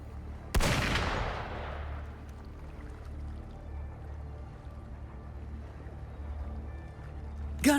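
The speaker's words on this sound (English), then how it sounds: "Gunfire! We've got intruders." A single sharp gunshot cracks out in Wuthering Waves and rings into a long fading echo, followed by a low steady rumble of ambience and a brief clatter at the end.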